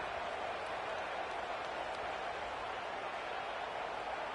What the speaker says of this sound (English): you can start to hear some of the boo birds coming out from this home crowd